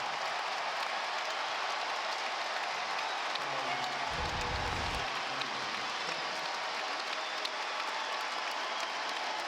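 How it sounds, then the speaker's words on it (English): Basketball arena crowd at an NIT game roaring in a dense, continuous wall of cheering that holds steady for nearly ten seconds, with a brief low rumble in the middle. "Listen to this crowd."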